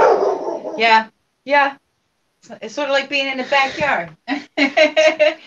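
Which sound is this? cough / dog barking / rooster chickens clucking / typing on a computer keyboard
dog barking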